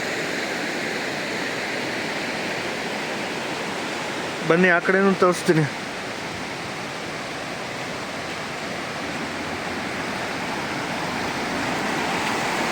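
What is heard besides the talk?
waterfall and flowing river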